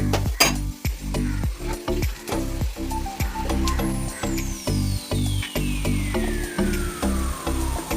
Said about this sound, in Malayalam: അതിലേക്ക് നമുക്ക് ഇച്ചിരി മസാലപ്പൊടിയും മഞ്ഞൾപ്പൊടിയും ചേർത്ത് മൂപ്പിച്ചെടുക്കാം.